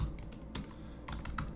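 Quick bursts of keystrokes on a computer keyboard as a git commit message is typed, close and clear over a low background hum.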